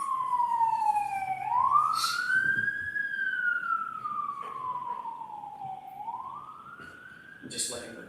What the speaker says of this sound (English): I'm just letting the siren go on.